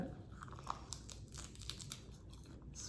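Close, crisp crunching and chewing of a sushi bowl during a mukbang, with a few sharper bites standing out from a steady crackly texture.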